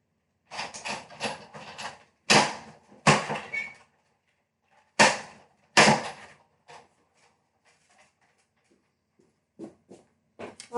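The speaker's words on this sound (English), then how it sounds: "Let me pass that in the big shot." A Big Shot die-cutting machine is cranked while a card is made, giving irregular bursts of rough mechanical grinding and clunks, clustered early and then sparser with quiet gaps, close and fairly loud, with no talking.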